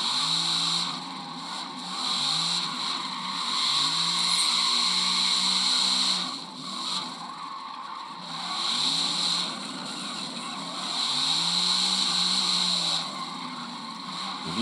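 A 1990 Mazda MX-5 Miata all-wheel-drive drift car in the Forza Motorsport video game, engine droning steadily at high revs with rising and falling pitch as the throttle shifts, close and continuous.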